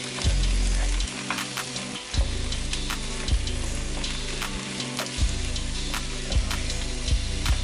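Mushrooms sear in a hot pan with a steady, loud sizzle and crackle, broken by a few thumps and shifts as the pan is moved or the mushrooms are tossed.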